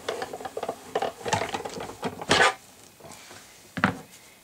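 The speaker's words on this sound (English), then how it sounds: "And then you're just going to roll it right through." Cuttlebug die-cutting machine cranked by hand as Spellbinder dies and an embossing pad roll through, making a stretch of uneven clicks and mechanical clunks with a couple of louder thumps near the end.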